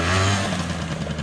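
The two-stroke engine of a Bombardier DS-50 quad revs loudly up close, a brief buzzing burst that settles slightly lower.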